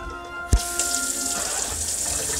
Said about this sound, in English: right here, that's the water pump